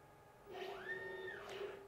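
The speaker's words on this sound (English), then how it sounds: "You can kind of hear the machine over to the side as that head kind of moves back and forth on there" A Glowforge laser cutter's head travels back and forth, giving a faint, distant whirring motor tone that rises, holds and then falls away.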